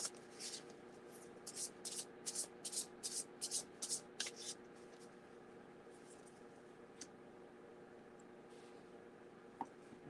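Repeated riffling bursts of card shuffling, several quick rounds in the first few seconds, then quieter handling with faint background hum.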